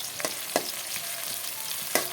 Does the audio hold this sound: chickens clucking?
no